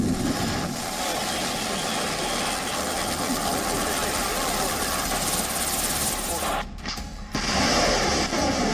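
A military helicopter's dense, droning rotor and engine roar fills the recording continuously during an attack in Ukraine, loud and broad, with a brief dip before resuming.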